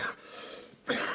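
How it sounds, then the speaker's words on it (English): Two harsh, close coughs from a man, separated by a short pause, in a tense TV drama scene. "how long have you had that cough?"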